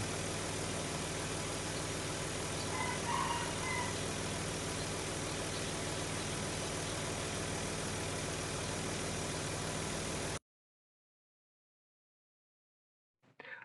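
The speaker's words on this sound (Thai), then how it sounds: "ฟังเสียงเครื่องยนต์กัน" A 2002 Nissan Cefiro A33 2.0 automatic idles with a steady, even engine rumble for about ten seconds, then cuts to silence before a brief noise at the end.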